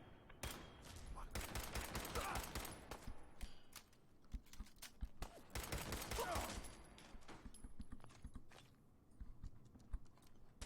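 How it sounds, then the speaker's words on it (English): Gunfire in the video game Fallout 4, two dense bursts of rapid shots a few seconds apart with scattered lighter pops between, heard under game noise at moderate level. "Something's shooting at me."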